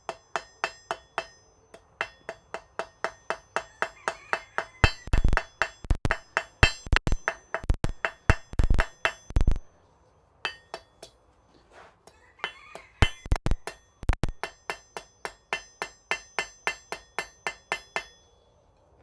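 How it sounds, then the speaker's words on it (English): A hammer strikes hot metal in a smithy over and over in steady runs of rapid, ringing blows, loud and close, with brief pauses between bursts while a leaf shape is forged. "this hammer makes my life a lot easier than it was before."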